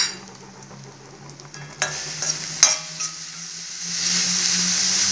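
Grated beetroot and soaked raw groundnuts go into a hot pan for kootu, with scraping, stirring and a few metal clinks, then a steady close sizzle that swells and holds toward the end.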